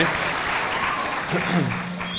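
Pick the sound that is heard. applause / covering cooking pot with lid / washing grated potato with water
applause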